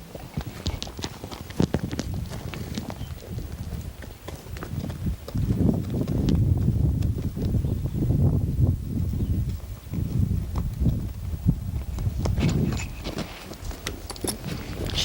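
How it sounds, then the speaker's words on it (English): A mare being walked by hand, her hooves clip-clopping in a steady, even rhythm at close range, with some rustling and background noise. "I'll take this off a minute and walk her around and show you a horse that's not lame."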